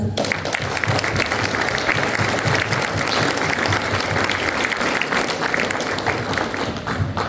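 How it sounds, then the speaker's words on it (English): A large audience at a volunteer awards ceremony claps in loud, dense, sustained applause filling the hall throughout. "Let's celebrate these amazing individuals and organizations with another round of applause."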